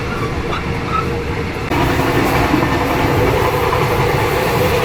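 Riding a train in Thailand between Surat Thani and Bangkok: a continuous loud rumbling rail roar with rattling wheels, stepping up suddenly louder partway through as if a door opens.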